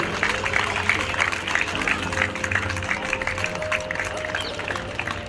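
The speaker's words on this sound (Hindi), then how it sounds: "दर्शकों से आग्रह, तालियां बजाकर हमारे डॉग और हैंडलर का उत्साहवर्धन करेंगे।" Spectators at a Republic Day railway celebration applaud a dog and handler display, with steady clapping running under an announcer's voice over a loudspeaker.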